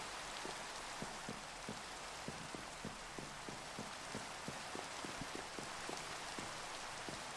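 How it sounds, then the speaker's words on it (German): Rain falling in the video game Minecraft 1.17, a soft continuous patter of raindrops with light repeated ticks, steady and quiet with no talk. "Hier regnet es."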